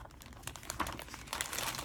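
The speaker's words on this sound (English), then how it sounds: "crinkle, crinkle, crinkle." Crinkling of plastic packaging around a stamped cross stitch kit, a soft, close rustle of irregular crackles and crunches rising in bursts, fairly quiet and without speech.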